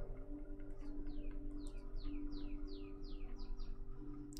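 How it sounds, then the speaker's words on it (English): Songbirds outdoors call in a rapid series of loud, descending whistled chirps, repeating about every half second over a steady low hum. "Those birds are loud today."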